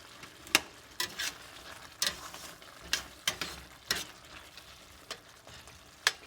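Chickpea curry, chana masala, simmers and sizzles gently in a pan while a spoon stirs it, producing a string of sharp, regular scrapes and clicks every second or so over a quiet hiss.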